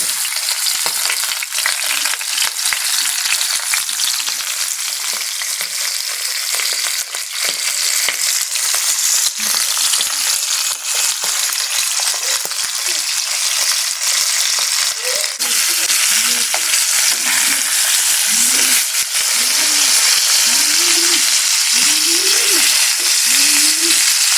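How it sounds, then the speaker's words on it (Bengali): Rupchanda fish sizzle and spit in hot oil, fried two at a time, a continuous crackling hiss with occasional stirring clinks and bubbling pops growing busier toward the end. "আমরা দুটি দুটি করে মাছ ভেজে নিচ্ছি"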